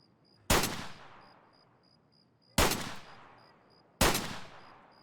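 Three sharp, loud gunshots in the game Escape From Tarkov, spaced a couple of seconds apart, each cracking out and then trailing off into a short echoing decay.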